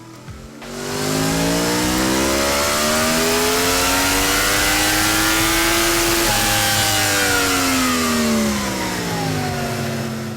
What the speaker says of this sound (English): Give a last listen to your stock exhaust.